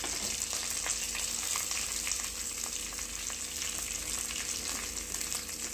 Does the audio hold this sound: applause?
no